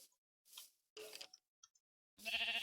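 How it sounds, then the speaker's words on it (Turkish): Sheep in the video game Minecraft bleat in short separate calls with small clicks and squishes between them, the loudest and longest bleat coming at the end. "Bir kere daha meyle bakayım koyun."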